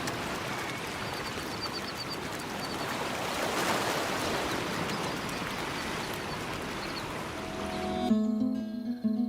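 Surf washes continuously along a sandy beach on the El Salvador coast, a steady close rushing roar of breaking waves with faint bird calls above it.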